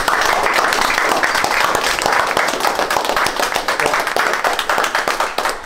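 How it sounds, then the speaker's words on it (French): A youth rugby team of under-15 players claps together after a semi-final against Dax, dense steady applause filling the whole stretch, close and loud with faint voices mixed in. "Levez-vous, tous. Applaudissez-vous."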